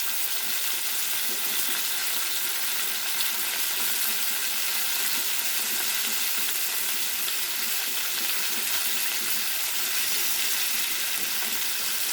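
Chopped large tomatoes fry in a pan for mango egg curry, giving a steady, even sizzle that holds throughout with no talking.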